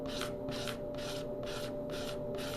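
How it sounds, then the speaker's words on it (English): A sharp new razor blade used as a scraper rasps tape off an epoxy table top in six evenly spaced strokes, close and quiet over a steady background hum. "Sharp, brand new razor blade, and I use it like a scraper."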